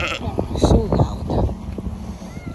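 A goat bleats loudly in a few wavering cries close by, while people chatter and exclaim around it.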